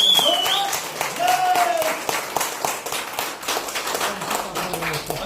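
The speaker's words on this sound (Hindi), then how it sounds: "और ताली इतनी जोरदार बजाएं" Loud applause from a training seminar audience, brisk continuous clapping with a rapid patter, close and full, while a voice talks over the start.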